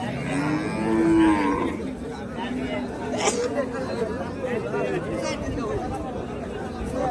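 Cows and calves low and moo amid a busy cattle market crowd at Hazratpur market, Bangladesh, with background chatter and voices throughout; one clearer moo rises early on.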